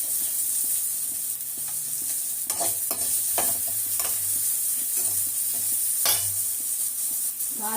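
Bitter gourd curry cooking in a pan, with fenugreek and mustard seeds tempering: a steady frying sizzle runs throughout, broken by intermittent stirring scrapes and light crackles, close and fairly loud with no talk.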